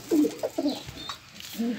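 Pigeons cooing inside a loft, a few soft low coos heard close by, with faint rustling between calls.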